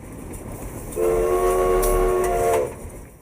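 A narrow gauge train on the Durango and Silverton line sounds one sustained horn blast of about a second and a half over the low rumble and rattle of the moving train.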